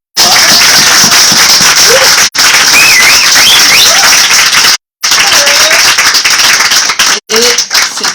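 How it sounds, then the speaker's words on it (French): Loud, sustained applause from a crowd, dense clapping filling the room, broken by a couple of brief cuts. "Je crois qu'on peut l'applaudir encore une fois."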